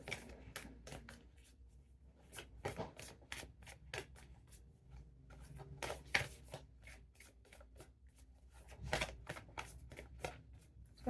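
Tarot cards shuffled by hand in a run of crisp riffling and flicking bursts, close and fairly soft, with brief pauses between handfuls and no talking.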